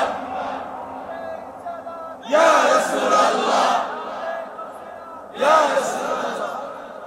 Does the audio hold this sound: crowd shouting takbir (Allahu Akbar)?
yes